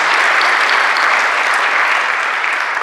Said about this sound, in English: Deserves some applause.